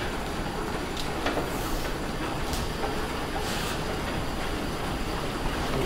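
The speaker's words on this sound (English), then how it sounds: "I'm going to run the machine." Water-powered 1870s machine shop machine at the Dupont gunpowder factory running and cutting metal, a steady rumbling, clattering drone of belts and gearing with faint clicks, continuous and moderately loud.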